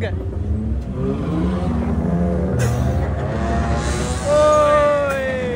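A heavily lowered car's exhaust roars and revs loudly on a night street in Kuantan, rising in pitch toward the end with a few sharp pops, while people talk over it.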